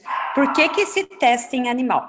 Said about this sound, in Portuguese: quero pedir desculpa que minha cachorrinha está latindo